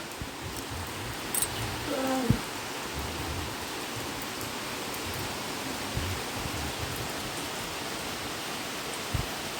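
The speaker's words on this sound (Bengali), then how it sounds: "বাইরে বৃষ্টি পড়ছে প্রচণ্ড এই দেখো" Heavy rain falls outside a home during the monsoon, a steady dense hiss of drops on surfaces throughout, with a few faint knocks and a brief whistle-like tone early on.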